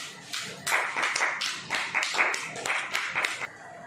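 An audience claps to welcome a speaker at a Christian prayer gathering, irregular bursts of hand claps rising and falling in close, lively waves before cutting off near the end.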